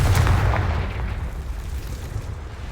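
A Confringo fire spell blast in Hogwarts Legacy: one heavy, booming burst right at the start that rumbles and slowly decays into a low roar.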